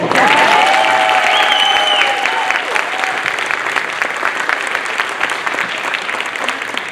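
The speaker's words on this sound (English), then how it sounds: "Clap some more if you believe." Loud, dense applause from a theater audience at a school play fills the space, steady throughout, with a few whistles and cheers rising above the clapping early on.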